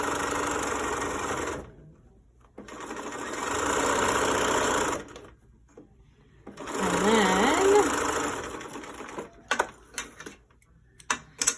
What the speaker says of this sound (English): So I'm going to sew along the top edge and the bottom edge, but leave the ends undone.